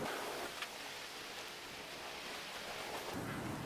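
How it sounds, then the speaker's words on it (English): Steady rain and gale-force gusting wind fill the background with a constant hissing wash, faint and distant, with occasional low rumbles. "It is blowing a gale outside"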